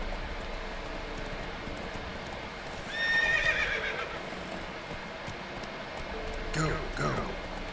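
Roach, the horse in Witcher 3, neighs in a rising whinny above a steady game-world bed of hooves and ambience, with a second shorter cry near the end; close and moderately loud, no talk over it.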